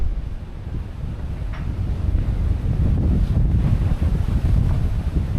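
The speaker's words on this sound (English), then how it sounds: "The wind is pumping through this narrow gorge here." Strong wind rushes through a narrow gorge at Klipgat Cave in the Walker Bay Nature Reserve, a continuous low roar buffeting the microphone, rising a little in force and never letting up.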